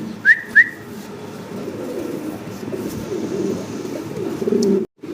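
Two soft coos from fancy Mundi pigeons near the start, then a low continuous murmur of birds and ambient noise, ending in a brief silence.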